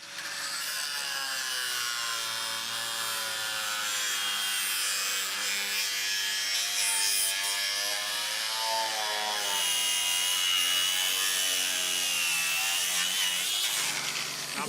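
Hand saw cutting through a wooden rafter on a seed room build, steady back-and-forth rasping strokes continuing loudly for the whole stretch without pause.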